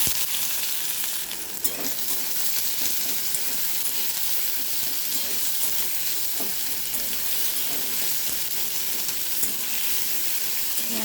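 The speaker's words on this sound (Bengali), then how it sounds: "পেঁয়াজটা ভেজে নেব।" Chopped onion frying in oil after cumin and bay leaf were added, a steady, even sizzle close up with an occasional faint stir, and no voices.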